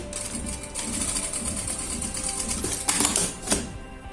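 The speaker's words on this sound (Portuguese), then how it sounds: "vou passar uma costura aqui até aqui embaixo, prendendo essa aba" A sewing machine stitching a seam down over a zipper flap, a steady fast mechanical whirr and needle clatter running throughout, with a couple of louder clicks near the end, close up without talking.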